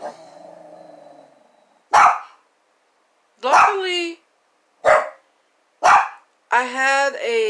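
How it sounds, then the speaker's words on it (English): Dogs bark at a cat outside, several sharp separate barks and a couple of longer yelping howls in an irregular rhythm, close and loud, with a person speaking briefly before them. "the dogs are seeing a cat outside"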